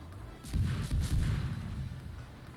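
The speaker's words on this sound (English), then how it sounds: "Very ballsy of you to open up with your guns like this early" Guns of a Kidd, a Tier 8 American destroyer in World of Warships, firing in a rapid cluster of several booming shots with muffled low rumbles, moderately close, settling into a lingering low roar afterward.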